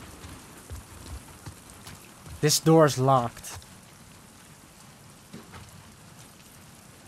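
Steady rain in The Last of Us Part II hisses and patters throughout, with a voice speaking briefly in the middle.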